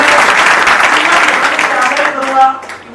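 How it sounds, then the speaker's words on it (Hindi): An audience claps at an academy's foundation day celebration, a dense burst of applause that fades near the end, with voices mixed in. "तो इनके लिए जोरदार एक बार ताली बजा के स्वागत"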